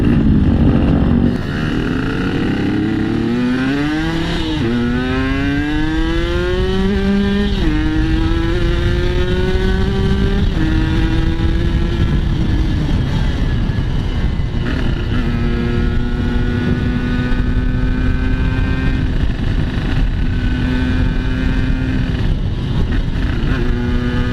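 A two-stroke Yamaha RX King motorcycle engine fitted with a carbon reed valve revs up repeatedly, pitch climbing in several rising pulls before settling into a steady high drone, loud and close.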